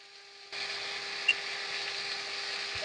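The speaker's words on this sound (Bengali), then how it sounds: "তাহলে এটা আমি কষিয়ে নেব।" Cauliflower curry masala frying in oil in a pan, a steady close sizzle that starts abruptly and then holds even, with one faint click.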